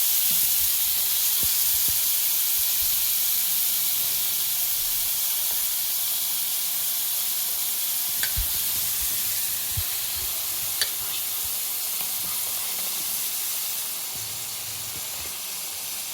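Clams (kalwa) sizzle loudly in frying masala, a dense continuous hiss of hot oil with occasional stirring scrapes and clinks of a utensil against the pan, close up and steady throughout.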